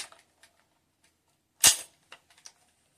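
A flip-out bayonet on a 1945 Kriegsmodell Kar-98K rifle in rough condition snaps open with one sharp, loud metallic click, followed by a few faint small clicks and rattles nearby, in an otherwise quiet room.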